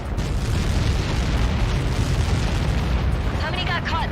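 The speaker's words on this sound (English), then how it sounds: "How many got caught in that explosion?" A massive explosion in the jet combat game Ace Combat 7 roars as a sustained, loud, rumbling blast filling the whole clip, with crackling debris and faint radio chatter-like tones near the end.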